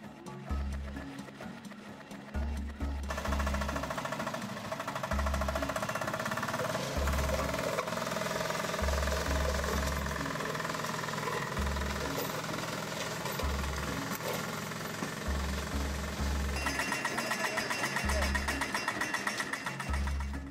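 The small engine of a four-wheel drive Eagle vehicle chugs steadily with a knocking, rhythmic pulse, running close and continuous throughout.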